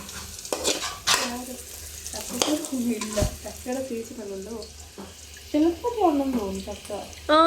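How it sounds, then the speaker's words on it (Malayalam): Steady sizzling of jackfruit seeds frying in hot oil, with stirring and clinking, under ongoing voices nearby. "നമുക്ക് വേഗം എണ്ണയ്ക്കകത്തിട്ട് മൂപ്പിച്ചെടുത്താൽ മതി"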